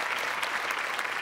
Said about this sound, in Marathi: आणि जोरदार टाळ्या राजन भिसे यांच्यासाठी झाल्या पाहिजे.